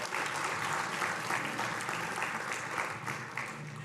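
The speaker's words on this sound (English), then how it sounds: "Why don't you give yourselves a round of applause for that support?" Audience applause at a student entrepreneur pitch competition, a continuous dense wash of many hands clapping at an even level.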